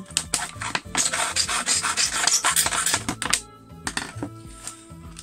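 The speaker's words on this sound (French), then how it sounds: "je vais l'agrandir avec le tournevis" A screwdriver scrapes and grinds to widen a small hole, with dense rasping bursts and a few sharp clicks and knocks, close up, then sparser scratches near the end, no talking.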